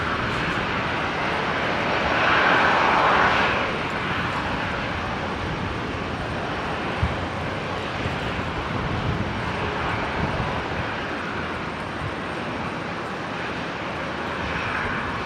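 An airliner arriving at Brisbane Airport roars steadily at a distance, a broad sustained jet rumble that swells slightly early on and then holds level, with no talk over it.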